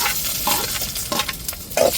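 Dried red chillies hit hot oil after mustard seeds, crackling and hissing loudly up close in a dense sizzle, with stirring scrapes breaking through.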